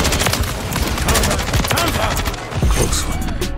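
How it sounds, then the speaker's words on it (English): Gunfire and a grenade blast in the Call of Duty Warzone video game, with a dense, continuous barrage of rapid shots and impacts running loud throughout and a heavier thump near the end. "Grenade!"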